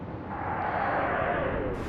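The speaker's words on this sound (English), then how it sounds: "Big explosion." A ship hit in the naval strategy game Atlantic Fleet bursts in a big explosion, a loud, broad rumbling blast that rolls steadily for about two seconds.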